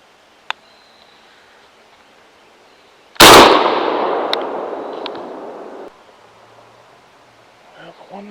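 A single loud, close gunshot while squirrel hunting in Louisiana woods cracks out sharply, then rolls away in a long echoing decay through the trees, with a faint voice stirring near the end.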